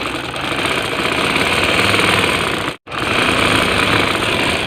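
A sewing machine runs steadily as it stitches lace onto a ladies' shirt, its loud, close motor whirr continuous apart from one brief pause before it resumes.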